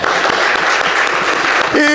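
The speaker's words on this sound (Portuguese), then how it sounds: "Para o Senhor Jesus, uma linda salva de palmas." A church congregation at a worship service applauds, a loud, dense wash of clapping that runs steadily, with a voice breaking in just before the end.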